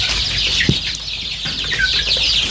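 Free-range village chickens feeding on grated cassava, corn and pellets in a low-cost coop, giving a steady flock chatter of clucks and murmurs with a few sharper calls throughout, close and continuous.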